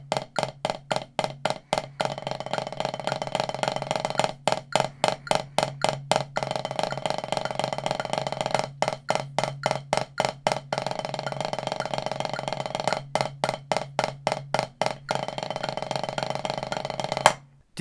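Buzz roll practice on a drum at 110 BPM, sustained pressed strokes alternating between sparser and denser groupings; a continuous close buzzing texture broken by brief gaps, steady and loud with no talking.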